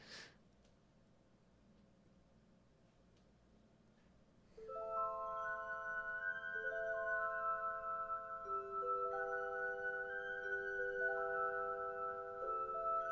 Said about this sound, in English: Lots of glass players.